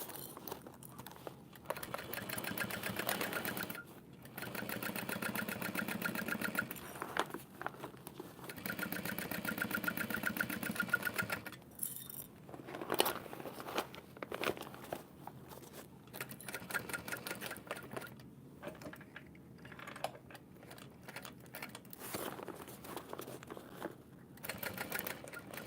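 A sewing machine stitching a seam slowly through thick layers with a 3/8 inch seam allowance, a steady close mechanical whirr in repeated bursts with short pauses between runs.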